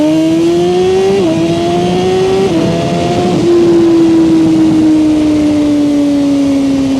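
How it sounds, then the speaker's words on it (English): A Suzuki GSX-R1000R motorcycle held at full throttle on launch control, its engine roaring loud and close at a sustained high rev with a few brief pitch steps, then droning slightly lower to the end, with no voices. "I'm going to give it full gas and full throttle"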